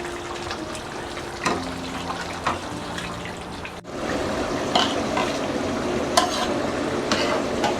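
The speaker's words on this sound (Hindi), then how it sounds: "अब हम इसको भूनेंगे।" Chicken biryani masala with yogurt and tomato paste is fried and stirred in a pan, making a continuous sizzle with scraping stirs that grows louder about halfway through, with no voices.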